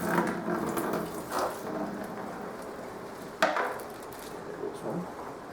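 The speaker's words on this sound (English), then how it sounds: "Let me get all this bad ammonia water out real quick." Ammonia-fouled water from a reef aquarium shipment pours out steadily with a broad splashing rush, a brief sharper splash partway through, and no voices.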